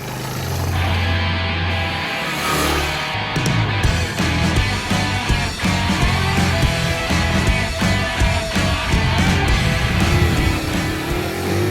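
Mash Seventy Five 125 single-cylinder motorcycle pulling away in first gear, its sausage-shaped exhaust giving a steady, moderately loud engine note that rises and falls with throttle changes throughout.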